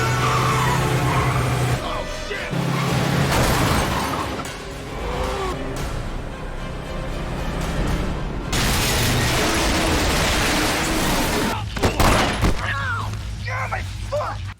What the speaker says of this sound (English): Frank pursues in another bus, leading to a wild chase that ends with Panther crashing into a train